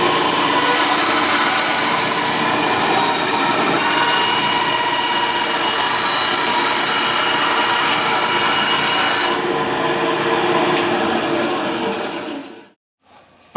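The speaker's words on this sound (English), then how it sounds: "now we've cut the end off with the bandsaw" A bandsaw cuts through the end of a rubber Easyboot hoof boot with a loud, steady whine and rasp for about twelve seconds before the blade winds down and stops.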